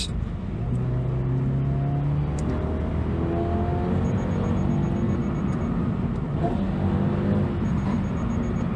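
A 2023 Subaru BRZ accelerates gently up a hill, its engine a steady, close hum whose pitch climbs slowly and evenly throughout, with no talking.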